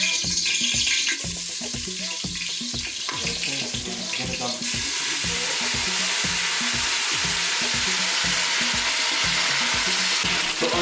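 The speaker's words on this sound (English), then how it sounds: "we are just going to cook all of this and just saute this onions, tomatoes, and ginger" Onions, tomatoes and ginger sauté in a hot pot for vegetarian sinigang, a loud continuous sizzle with rhythmic stirring scrapes pulsing through it.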